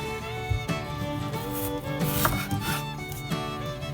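A knife trimming the rough edges off beets on a cutting board: a series of close, sharp chopping thunks and scraping cuts in irregular rhythm, with no talk.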